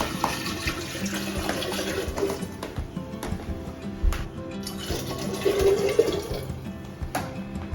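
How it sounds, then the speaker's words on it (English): Water splashes and runs into a container while canning cranberry juice in a water bath, a fairly quiet, continuous pour with small clinks and bumps. "Add a little water."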